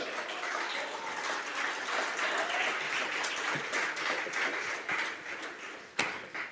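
A church congregation applauds, a moderately distant wash of many clapping hands that holds steady for several seconds before one sharper knock near the end.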